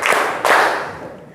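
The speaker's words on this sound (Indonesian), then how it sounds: "3 berarti 3 kali. Tepuk 3." A group claps on cue at a led exercise, producing a couple of loud, slightly ragged bursts of many hands striking together, close by and fading after the second burst.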